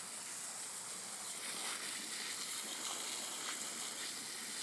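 A water hose sprays and rinses the face of a wheel that has been washed with cleaner, giving a steady, even, faint hissing gush with no breaks and no voices.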